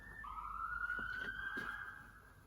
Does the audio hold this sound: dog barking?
no